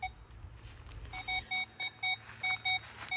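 A metal detector gives a rapid series of short, evenly spaced high-pitched beeps close by over an old squirrel nest among roots, over faint rustling.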